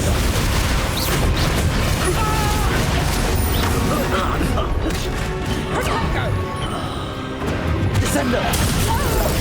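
A Bombarda blasting spell in Hogwarts Legacy on Switch, loud crashing explosions and smashing debris filling the whole stretch, with a brief lull before the blasts return, under a voice calling out.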